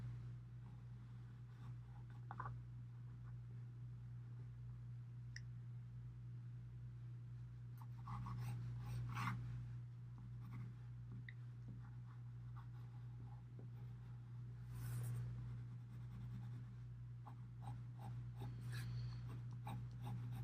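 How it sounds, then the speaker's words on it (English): A pencil shades darker tones on paper while a drawing of a wooden dock is finished, the faint scratchy strokes continuing steadily over a low hum, with short louder bursts of scribbling and no talking. "I might use this pencil to really get this darker"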